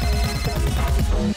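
A phone rings for an incoming call in a scene from a Bollywood action film, its repeating ringtone pattern sounding steadily and fairly loud for just over a second before cutting off abruptly.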